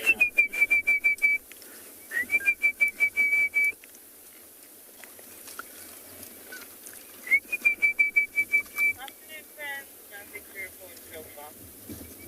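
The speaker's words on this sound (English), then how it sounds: "You can probably also just about hear the orange-breasted bushrat calling." An orange-breasted bushshrike calls outdoors on a South African safari, repeating bursts of clear, evenly pulsed whistled notes, fairly loud, with breaks between series and light wind noise behind.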